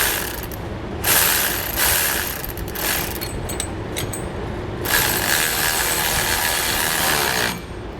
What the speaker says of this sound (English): 9/16 socket and wrench. We'll tighten down these brackets.